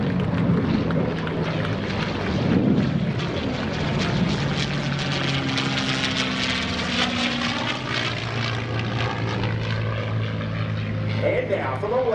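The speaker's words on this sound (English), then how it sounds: "Put your hands together for Mr. Jim Beasley in the P-51 Mustang." A P-51 Mustang propeller fighter roars continuously overhead at a naval air station airshow, its loud, steady engine drone rising and falling in pitch as it passes, with an announcer talking over it.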